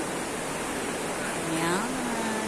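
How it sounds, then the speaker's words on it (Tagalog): River water rushes in a broad, constant hiss close by, with a voice speaking briefly over it toward the end. "Yan ang ilog."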